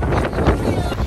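Strong wind and rain buffet a small boat at sea off a Fiji island in stormy weather, a loud, close, continuous roaring rumble of wind on the microphone.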